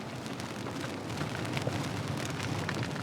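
A line of rain sweeps over a sailing boat at sea in 27-knot wind, a steady, dense hiss of rain and wind that stays loud and even throughout, with no talk.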